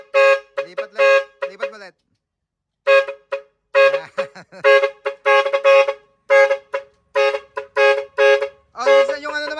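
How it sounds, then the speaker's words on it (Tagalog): A dual trumpet car horn with a horn module honks repeatedly in short bursts and longer blasts, close and loud, with brief pauses between groups of toots. "Sound check lang natin para patunugin natin lahat yung busina mo."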